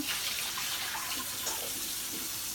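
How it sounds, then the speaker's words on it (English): Water runs steadily from a sink tap as a tadpole container is rinsed and swished out, a continuous close splashing rush with no voices. "you just kind of rinse it out and swish it around"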